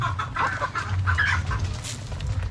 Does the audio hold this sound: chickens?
yes